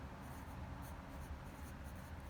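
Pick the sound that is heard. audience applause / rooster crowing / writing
writing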